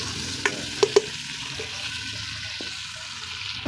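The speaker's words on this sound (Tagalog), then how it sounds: "Surugin natin kamatis para lalabas agad ng aroma nito mga idol" Tomatoes sautéing in a pan for pork sinigang give a steady low sizzle, with a few sharp utensil clinks and scrapes early on and no voices.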